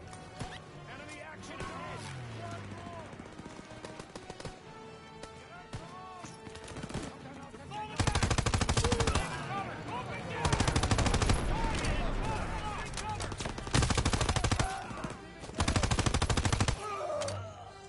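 Machine gun fire rattles through a WWII video game battle scene in several loud sustained bursts in the second half, after quieter stretches of shouted voices and background combat noise.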